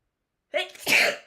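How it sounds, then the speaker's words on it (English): A single close, loud sneeze: a sharp breathy intake followed by a forceful burst, with nothing else around it. "I was just waiting for that sneeze to come through."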